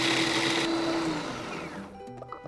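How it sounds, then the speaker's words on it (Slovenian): Pumpkin seeds grind in a blender, a loud whining motor roar that runs steadily, then spins down and fades, leaving a few faint clinks near the end. "Uporabljamo bučna semena, lahko jih tudi namočite. In najprej zmešamo semena."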